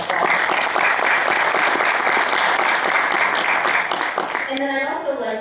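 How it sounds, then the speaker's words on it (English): Strong, steady audience applause fills a Chandler city meeting room for James Smith, dense clapping for several seconds before a voice begins speaking as it dies down. "So if you could join me in giving James a round of applause."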